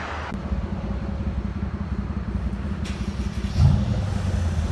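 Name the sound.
Mercedes CLS 550 twin turbo V8 exhaust, muffler delete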